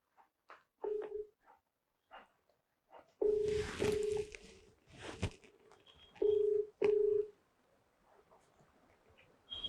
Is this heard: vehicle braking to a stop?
no